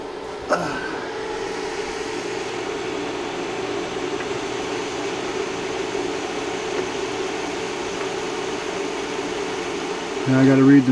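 Cooling fans in a Robe DMX stage light under repair whir with a constant, even airflow drone for the whole span, close and steady, with a brief clunk near the end.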